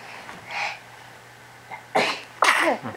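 A young child sneezes, with quick, sharp bursts from close by. Two loud sneezes come in succession near the end, after a fainter earlier one, and there is no talk.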